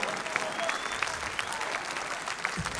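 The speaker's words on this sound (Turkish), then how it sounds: "alkışlıyorum" A Turkish TV show studio audience claps in dense, steady applause that holds the whole time, loud and full, with voices faintly mixed in.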